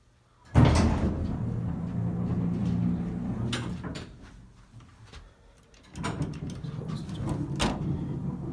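An Otis Series 1 hydraulic elevator door slides shut with a loud thump and rumble, then a quieter pause before another sliding, rattling movement follows.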